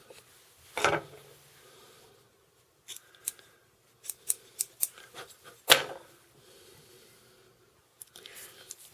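Scissors snip hair being trimmed for tying an Atlantic salmon fly, The Governor pattern: a few close, crisp cuts, then a quick run of snips, alone in a quiet room.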